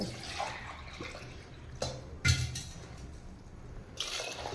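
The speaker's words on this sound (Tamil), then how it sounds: "ஒரு லிட்டரு தண்ணி ஊற்றிக்கலாம் பாகு ரெடி பண்ணுறதுக்கு" Water is poured into a pot of crushed jaggery to make syrup. It gives a soft, close trickling and splashing with a few sharper drips and clinks, fairly quiet and alone.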